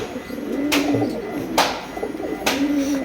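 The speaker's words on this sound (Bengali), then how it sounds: "আজকে মূলত তিনটা কবুতর উড়াইছিলাম তিনটাই নামছে বাসায়" Soft, low cooing of Giribaz pigeons rises in a few rolling phrases, with brief sharp bursts like wing flaps or knocks breaking in about three times.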